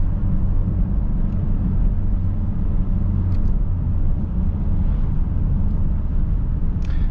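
A 2011 Peugeot 508 SW with the 1.6 e-HDi diesel, 112 HP, drives a winding forest road, giving a loud, steady cabin rumble of engine and road noise throughout with no talking.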